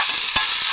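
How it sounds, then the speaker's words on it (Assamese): Small potatoes and French beans stir-fried into a bhaji, giving a steady hiss of frying with one brief scrape of a spatula through the pan. "এয়া মই সৰু আলুগুটি আৰু ফ্ৰেঞ্চবিনৰ ভাজি বনাইছোঁ।"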